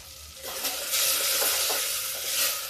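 Curry leaves hit frying masala and burst into a loud crackling sizzle that swells and holds, close and alone.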